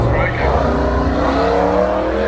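Drag racing at a dragway between a 1979 Holden Commodore with a 5.8 litre V8 and a VE Senator with a 427 stroker engine: a loud, sustained engine roar with rising pitch, with an announcer talking over it.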